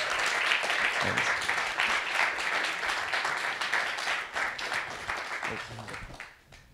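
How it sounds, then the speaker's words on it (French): An audience applauds at an interview event with Frédérick Raynal, creator of Alone in the Dark, as guests are welcomed on stage; dense, steady clapping fades toward the end with some voices mixed in. "Merci de l'applaudir."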